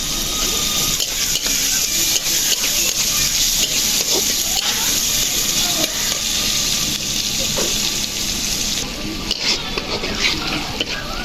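Onions fry in oil until browned, a dense, continuous loud sizzle with faint stirring underneath that holds steady throughout.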